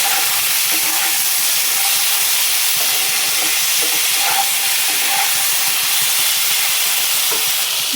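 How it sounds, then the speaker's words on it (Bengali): Ingredients frying with salt in a pan while being stirred, giving a steady loud sizzle and hiss with a few faint scrapes of the spoon underneath. "এটাকে ভালো করে নেড়ে ভাজতে হবে।"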